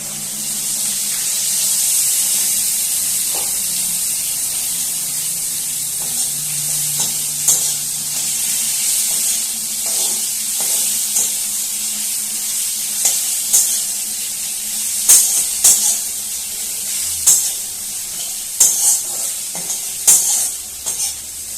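Crushed garlic, seven or eight cloves, sizzles steadily in hot oil in a pan while cooking a desi magur fish curry, a constant hiss broken by occasional stirring clicks and scrapes.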